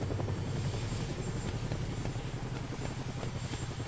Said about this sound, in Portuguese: O helicóptero tá atirando na pessoa